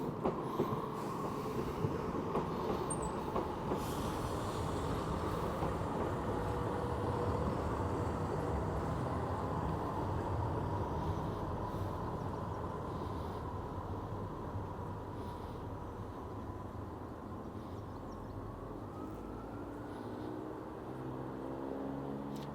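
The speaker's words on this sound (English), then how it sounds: "And we got a train coming." A train rumbles past at a distance near the Iron Bridge on the main line at Peterborough, a low, steady rolling roar with faint rhythmic clatter that holds for over twenty seconds and eases slightly toward the end.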